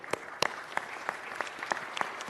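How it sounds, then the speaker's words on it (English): Applause from the audience at a Los Angeles City Council meeting in City Hall, a brief burst of scattered, moderately loud clapping with irregular sharp claps standing out over a light crowd bed. "If we could give our colleague a round of applause."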